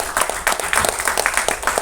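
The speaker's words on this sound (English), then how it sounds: "Can you please give a round of applause?" Audience applause at a trailer launch event, a short burst of many hands clapping together, steady and fairly loud, with no talk over it.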